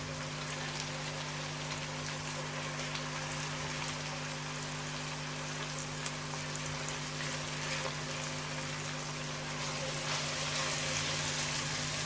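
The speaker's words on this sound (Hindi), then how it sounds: "मसाले को हम अच्छी तरह मिक्स करेंगे फ्राई करके" Spice masala of black pepper, garam masala, salt and crushed red chili fries in a pan, a steady, even sizzle that holds at a constant level throughout without breaks.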